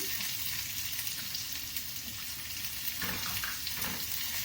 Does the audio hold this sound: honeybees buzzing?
no